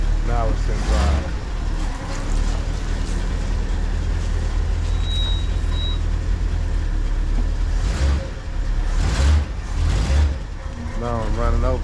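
A 1968 Ford LTD engine runs in drive with a low, steady rumble close by, while someone talks over it and brief thumps break in near the end.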